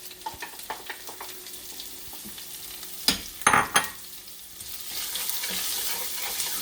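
Masala, turmeric and cumin dropped into a hot pan for a vegan bowl, with a soft frying sizzle throughout, a few sharp stirring knocks midway, and the hiss growing steadier toward the end.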